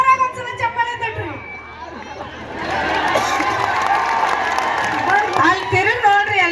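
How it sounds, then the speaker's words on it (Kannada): A crowd claps loudly, the applause swelling into steady, sustained noise after a moment of someone talking, with voices continuing over and around it. "ಎಷ್ಟ್ ಚಂದ ಚಪ್ಪಾಳೆ ತಟ್ಟಾಕತ್ತಾರ ನೋಡ್ರಿ"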